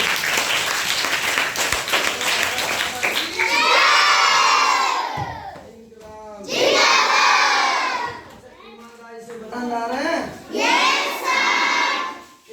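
Schoolchildren in a classroom break into loud bursts of shouting and cheering with some clapping, three separate waves rising and falling, near and boisterous.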